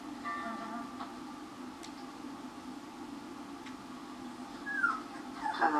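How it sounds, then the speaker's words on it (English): Young puppies play on a security-camera feed, giving faint, high whimpers and yips over a low steady hum, with small ticking sounds scattered throughout. "Puppies are learning how to walk, learning how to play."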